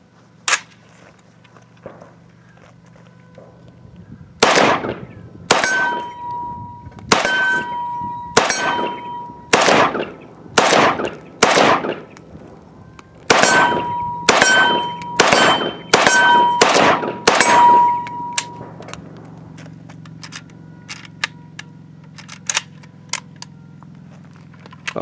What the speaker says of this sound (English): here's Luke shooting from a standing position with the red dot at the steel at about 25 to 30 yards.